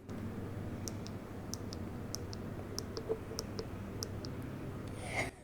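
Volume rocker buttons on a Vivo Y29 smartphone click in a quiet, evenly spaced series of crisp paired taps, close and soft, with no talking.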